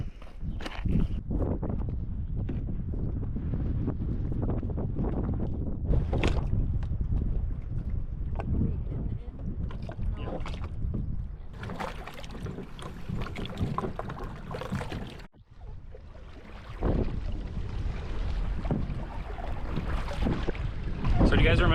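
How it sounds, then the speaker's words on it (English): Steady wind rushes across a lake in North Cascades National Park during a kayak outing, with gusty rumble and microphone buffeting filling the whole stretch, while paddling and boat sounds come through faintly and people talk at times. "the wind's kind of nice, you know? It's giving us a nice breeze"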